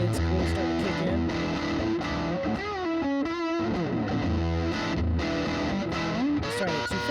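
A guitar runs through a fuzz pedal with a 500 Hz mid boost, thick and distorted, playing a melodic line with bending sustained notes, loud and alone without voices.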